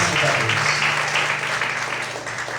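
Sustained, energetic clapping from a church congregation at a couples' meeting, close and loud, a dense wash of hands with a faint voice or hum underneath that tapers slightly toward the end.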